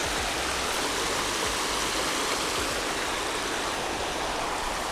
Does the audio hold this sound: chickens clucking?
no